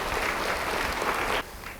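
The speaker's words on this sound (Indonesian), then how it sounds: "Yang mau beri tepuk tangan bagi Tuhan." A church congregation applauds for God during a sermon, a brief burst of fairly close, steady clapping that cuts down sharply near its end and trails off faintly.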